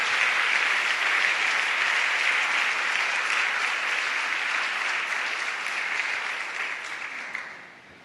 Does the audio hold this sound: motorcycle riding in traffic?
no